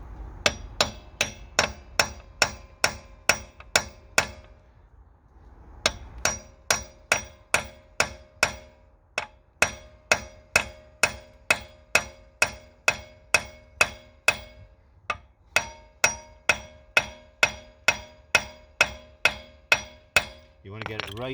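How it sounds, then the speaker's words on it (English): A hammer taps a socket onto a locking wheel nut, giving a long, steady series of sharp metallic strikes about one per second with a brief pause partway through, close and clear. "Okay, so we'll locate it on like so, and you can know it's tight, and I'm going to tap it on."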